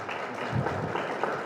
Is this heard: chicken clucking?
no